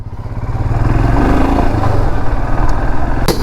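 A motorcycle engine runs close by at a steady, loud, throbbing idle with slight revving, and no one talks over it.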